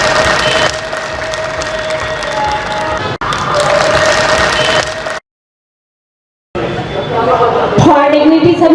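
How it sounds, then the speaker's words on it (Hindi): An audience applauds and cheers to honour a teacher at a National Teachers' Day event in Betul, with the crowd noise broken by a brief silence and voices speaking over it. "एक बार जोरदार तालियों से इनका सम्मान कीजिए"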